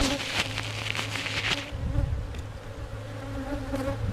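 Dense, steady buzzing of many honeybees up close at an open hive, a continuous droning hum with no talking.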